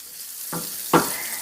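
Chorizo frying in a pan, a steady hiss broken by a few louder scraping stirs, near and alone with no talking.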